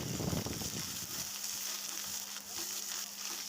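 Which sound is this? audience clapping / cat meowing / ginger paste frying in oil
ginger paste frying in oil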